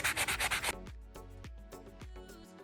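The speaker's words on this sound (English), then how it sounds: "Just wanna sand off the slivers so it's smooth" Sandpaper rubbing over a wooden plant bench to smooth off slivers, starting with rapid close scratchy strokes, then slower separate sweeps, with no talking.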